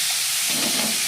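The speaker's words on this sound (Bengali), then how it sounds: "তেল গরম হয়ে গেছে, এবার কুমড়োগুলো দিয়ে দেবো।" Pumpkin pieces drop into hot oil for a small-fish chorchori, producing a brief, loud hissing sizzle that swells and holds for about a second.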